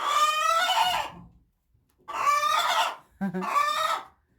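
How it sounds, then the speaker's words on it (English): A hen in a coop clucks and squawks loudly in three agitated bursts separated by short silences, close and clear with no talking. "She is my funniest chicken."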